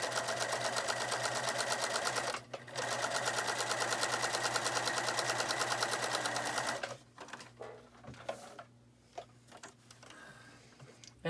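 A sewing machine stitches fabric for a face mask, running in a fast steady rattle that pauses once, then gives way to short bursts and thread-handling clicks.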